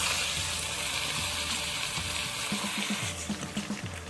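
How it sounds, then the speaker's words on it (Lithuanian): About two litres of water poured into a hot kazan holding seared pork knuckle, a broad steady sizzling rush that breaks into bubbling, spattering pulses toward the end, close and loud with no voices. "Pilame apie 2 litrus vandens."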